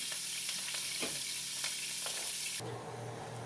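Beef frying in a hot pan, a loud continuous close sizzle with sharp pops and crackles spattering through it, the tone shifting toward the end, no voices.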